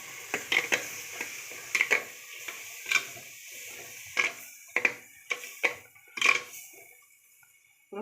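Curry ingredients, coriander among them, being stirred in oil inside a clay pot while fish curry cooks, heard as a string of sharp scraping clacks at an uneven rhythm over a faint sizzle, close and fairly quiet, with no talk.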